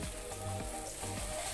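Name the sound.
stirring lapek batter in a pan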